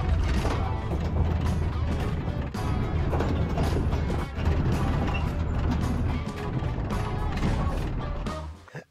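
Ratchet straps on a loaded trailer carrying gas cans, an e-bike, an ATV, a cooler and a water tank, rattling and clanking continuously with dense mechanical clicks, creaks and rumbling, loud and close, no talk.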